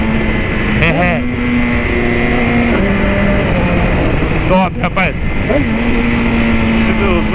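A BMW S1000 motorcycle engine revs in sharp bursts and hits the rev limiter several times, with a high, stuttering buzz. The sound is loud and close, and people talk over it.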